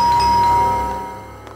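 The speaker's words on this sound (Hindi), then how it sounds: "इस वक्त मेरे घर की घंटी बजा रहे हैं" A house doorbell rings once with a single clear chime that fades away over about a second and a half. It sounds close and fairly loud, and no one speaks.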